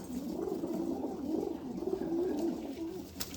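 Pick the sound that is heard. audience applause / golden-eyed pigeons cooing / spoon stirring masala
golden-eyed pigeons cooing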